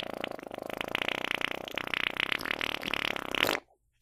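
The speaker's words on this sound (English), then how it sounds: "Sorry, I just farted." One long, buzzing, rapidly fluttering fart that carries on steadily for about three and a half seconds, loud and close, then cuts off abruptly into silence.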